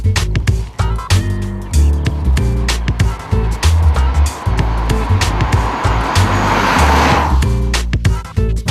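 A Volkswagen CC V6 four-door sedan driven hard, its engine roaring loud and close with a pulsing, rhythmic drone, rising through revs and tyre noise in a sustained surge.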